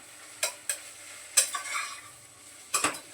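Bitter gourd being stirred and fried in spices with a coating of peanut, soft background sizzle punctuated by a few sharp scrapes and clinks of a spatula against the pan.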